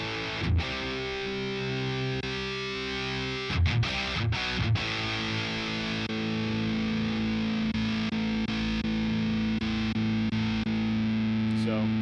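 Distorted electric guitar tones from a Boss Katana MK-II amp's factory presets, sustained chords ringing with a few sharp strummed attacks and short breaks between them.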